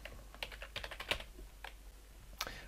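Quick, light keystrokes tap on a computer keyboard while entering text in Word, a handful of soft clicks in an irregular burst, faint and close.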